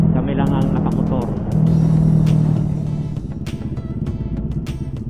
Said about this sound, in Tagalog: Kami lang ang nakamotor.